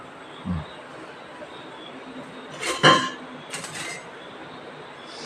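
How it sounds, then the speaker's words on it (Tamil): A metal ladle is lifted from among kitchen utensils while idli is being made for dinner, giving a short cluster of light clinks and scrapes at moderate distance against a quiet room, with no talking. "கரண்டி எடுக்கிறேன்."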